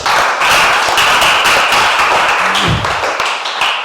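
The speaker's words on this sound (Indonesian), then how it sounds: "berikan tepuk tangan dulu untuk Henry." Classroom applause breaks out, a dense burst of many hands clapping together that runs for a few seconds, close and fairly loud, with a few louder taps and thuds mixed in.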